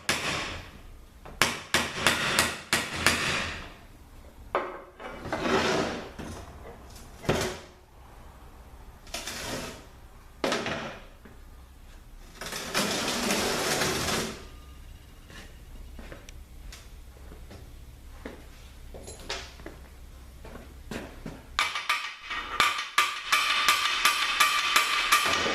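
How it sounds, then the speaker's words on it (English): Small hammer knocking parts out of a CD4E automatic transmission during teardown, with several sharp metallic taps in quick bursts, some louder clusters near the end, close and alone with no talk. "here's this small hammer to knock it back"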